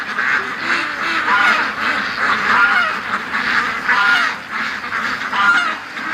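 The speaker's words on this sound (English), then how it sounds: "Oh, that's a goose there." A goose outdoors among ducks on wet, dewy grass gives a run of repeated nasal honks, fairly close and loud, with overlapping calls from other fowl.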